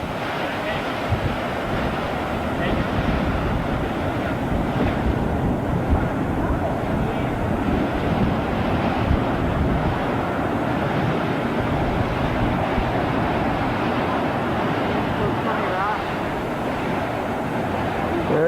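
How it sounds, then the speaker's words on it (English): Surf crashes continuously against the rocky Maine coastline near the Bush family compound, a loud unbroken roar of breaking waves mixed with heavy wind buffeting the microphone. "In the foreground, the crashing surf."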